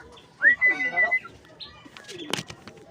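A racing pigeon arriving home gives a few soft coos and whistling calls nearby, followed by a brief flutter and light knocking, all fairly faint.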